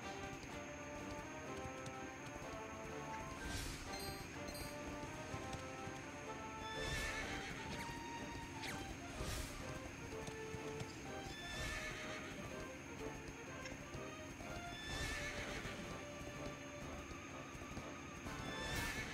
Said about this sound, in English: But I was on a horse!